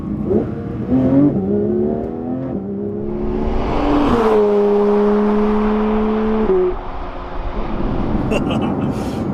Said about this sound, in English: let's do a bit of an acceleration while short shifting and see what this car is all about